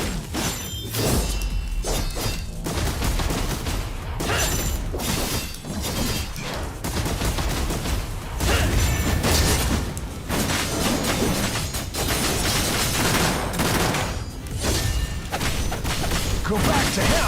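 Gunshots and shattering impacts in a video game demo, a dense, loud barrage of shots, crashes and thuds with brief game voices mixed in.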